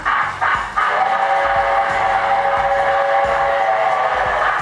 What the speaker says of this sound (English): So all right, let's explore the whistle.